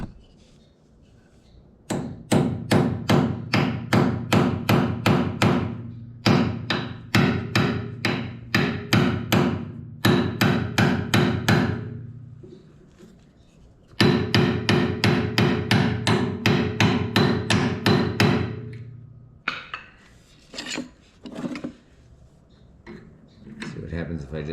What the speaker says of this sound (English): I think I can hammer this in there